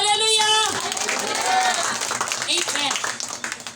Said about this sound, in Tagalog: Pumalakpak at sumigaw ng Hallelujah!